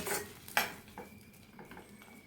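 A utensil scrapes and clinks against a pan while long beans are stirred into a salted stir-fry, with a few sharp taps and softer shuffling close by at a low level.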